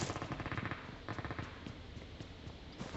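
Rapid automatic gunfire in an online shooter video game, quiet and slightly distant, coming in several quick bursts of sharp repeated shots with brief gaps between them.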